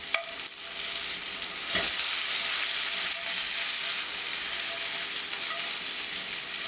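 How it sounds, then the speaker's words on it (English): Mushrooms and broccoli fry lightly in a hot pan alongside an herb-spiced filet mignon, giving off a loud, steady hiss and sizzle with a couple of sharp stirring knocks and no speech. "I'm going to add the rest of these and just lightly cook my mushrooms and my broccoli"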